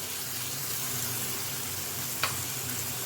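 Tomato paste sizzling in a frying pan while cooking cottage-cheese bhaji, an even, dense hiss close up, with one sharp knock from a utensil.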